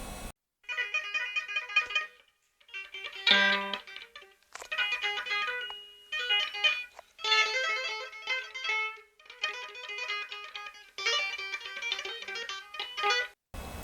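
Deliberately sloppy electric guitar phrases, choppy and uneven, in several bursts separated by short gaps, with one harsh clanking hit near the middle; no talking.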